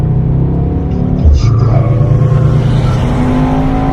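Mercedes-AMG E63 switched into Sport Plus mode, its engine giving a loud, steady rumbling drone with a brief surge around the middle, heard close from inside the car.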